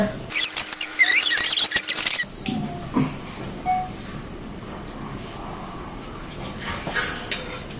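A knife cuts through a pistachio cake and a slice goes onto a plate, with close scraping and clinking of utensil on plate for about two seconds, then a quieter room with faint scattered taps.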